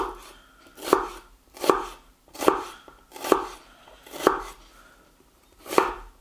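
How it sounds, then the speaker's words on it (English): Knife chopping vegetables into rough chunks on a board for a kamado-cooked chicken dish, six sharp, evenly spaced chops close up with quiet pauses between them. "just cut it in rough chunks. No need to go overly fine on it."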